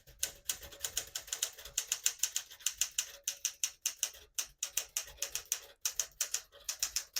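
Crisp, sharp strikes of a 1964 Smith-Corona Sterling manual portable typewriter snap in quick, steady bursts with brief pauses, close and clear with no talking.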